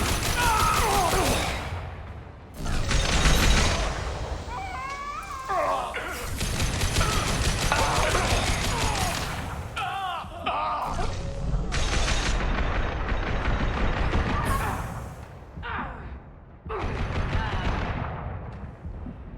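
Mattock rifle firing in Mass Effect Legendary Edition, repeated heavy semi-automatic shots in bursts mixed with explosions, game voices and combat noise, with a player talking at times.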